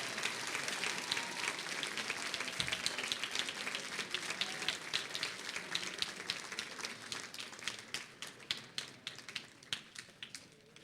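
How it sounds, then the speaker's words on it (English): An audience at a school district board meeting applauds student scientists with dense, sustained clapping that thins into scattered individual claps toward the end. "If we can have one loud round of applause for all these amazing scientists from Team"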